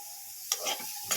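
Vegetables with turmeric, cumin and coriander powder fry in a pan as two scraping stirs of a spatula cut through a soft, steady sizzle, close by and without talk.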